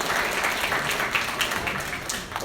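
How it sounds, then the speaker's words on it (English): An audience at a university hackathon applauds the event sponsors, a dense, continuous wash of many hands clapping at steady volume throughout. "a big round of applause for all the sponsors"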